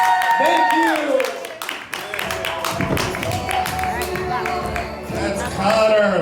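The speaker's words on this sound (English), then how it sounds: "One more round of applause for Connor." A comedy club audience applauds and cheers for a comedian, scattered claps mixed with crowd voices and a speaking voice over the top.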